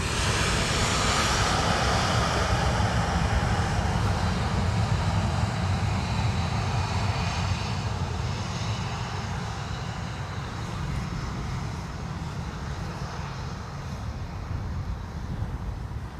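Airbus A320neo airliner lined up on a runway at Dublin Airport on a wet, gusty day, a sustained engine roar with whistling high tones that is strongest at first and eases slightly, steady and without speech.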